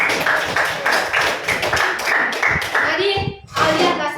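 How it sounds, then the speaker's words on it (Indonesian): Schoolchildren in a classroom give a round of applause for a classmate, a brisk, rhythmic clapping close by, mixed with children's chatter and a pause near the end before it picks up again. "berikan aplaus dulu untuk Alia"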